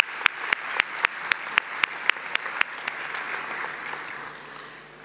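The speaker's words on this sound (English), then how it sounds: "So please, a round of applause." Audience applause at a 2023 graduation ceremony of the University of New York Tirana, with a steady run of about ten sharp, evenly spaced claps standing out close by over a softer crowd wash that fades away.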